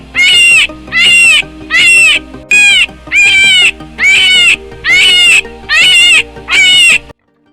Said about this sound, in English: These are the sounds the Russian hare makes.